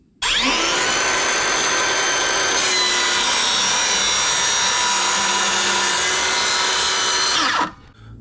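A power tool cuts through a wooden template for a toy bin, running loud and steady for about seven seconds before spinning down and stopping.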